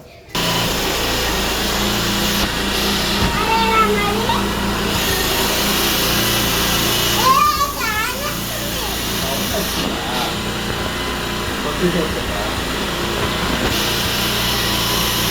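A motorbike engine idles and revs steadily nearby for the whole stretch, with people talking over it and a brief whine in the middle.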